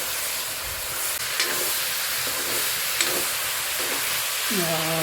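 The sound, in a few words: stirring sizzling jackfruit curry over a wood fire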